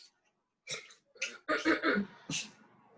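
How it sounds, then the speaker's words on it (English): A few throat-clearing rasps and short gruff coughs, close and fairly quiet, bunched in quick succession. "Clear your throat."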